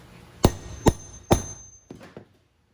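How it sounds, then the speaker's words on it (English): Three hard hammer strikes on a Bandit CP4000D center punch clamp tool, spaced evenly, followed by two softer taps; close and loud with brief ringing. "You hammer the CP clamp"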